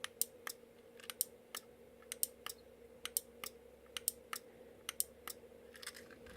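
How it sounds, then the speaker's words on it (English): A radio-controlled relay module powered at 12 volts clicks repeatedly, sharp close ticks in an uneven run over a faint steady electrical hum. "when I press the button, you'll hear the relay clicking"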